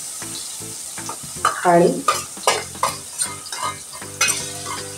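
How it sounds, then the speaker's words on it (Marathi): A green masala is stirred into a potato mixture frying in a pan. Repeated scraping strokes and clinks of the spoon come close over a continuous sizzle, and a single word is spoken. "आता इथे मी माझा हिरवा मसाला घालते"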